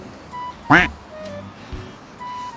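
A single short, nasal duck quack rings out once over quiet background noise.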